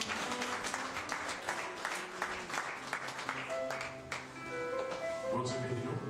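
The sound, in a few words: congregation applause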